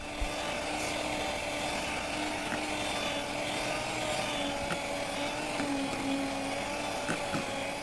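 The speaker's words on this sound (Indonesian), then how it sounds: "Kurang lebihnya ini dimixer selama 15 menit." Electric mixer beating banana cake batter at high speed, a steady, close whirring drone with faint rattles of the beaters against the bowl and no voices.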